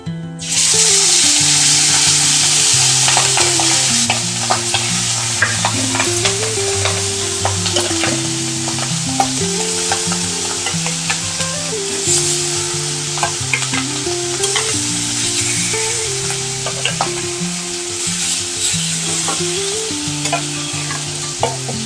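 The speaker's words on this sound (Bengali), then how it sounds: "এবার আমি মাছগুলো দিয়ে দেবো।" Hilsa fish pieces sizzling loudly in hot oil in a pan tempered with dried red chillies and nigella seeds, a constant dense crackle close up, with background music playing along.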